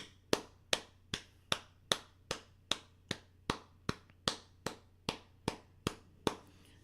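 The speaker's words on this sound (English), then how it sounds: "Give that woman a round of applause" Applause for a woman comes as evenly spaced, sharp claps in a steady beat, about fifteen in a row, fairly faint and with no voices.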